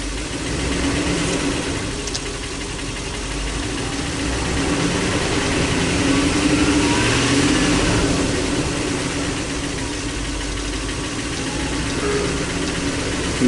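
A 2005 Ford E-350 van engine with a misfiring number six cylinder, running close and loud with throttle raising the revs into a sustained, slightly uneven drone.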